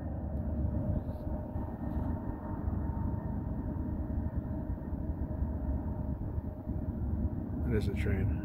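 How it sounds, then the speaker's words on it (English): A train rumbles through a tunnel with a steady, heavy low roar that holds throughout, ending with a few sharper metallic clanks. "It is a train."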